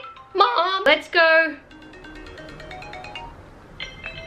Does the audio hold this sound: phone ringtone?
yes